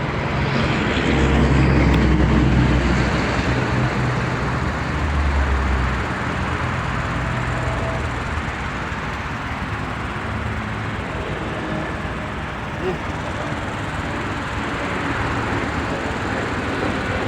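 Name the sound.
airplane flying overhead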